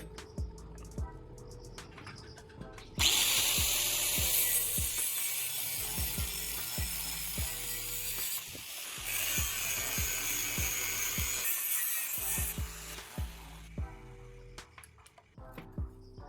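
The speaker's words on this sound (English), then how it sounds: "marking and cutting a groove into the edge" A groove is cut by hand into the edge of an L-shaped metal plate that will serve as the pressing block of a homemade metal bending tool. Close, steady rhythmic rasping strokes repeat for the whole stretch with no talking.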